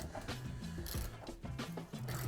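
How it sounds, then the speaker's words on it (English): A torque wrench ratchets with a run of quick mechanical clicks while tightening a bolt on the rod end of a Mercruiser boat trim cylinder held in a vise, close and crisp. "we're gonna torque it to Mercruiser spec. Click."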